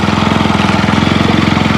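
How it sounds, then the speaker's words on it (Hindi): Motorbike engine on an empty road at night, a steady low rhythmic putter held at constant speed, loud and close, with no voices. "दूसरी तरफ रात में ही एक आदमी बाइक पर सवार रोड से गुजर रहा था।"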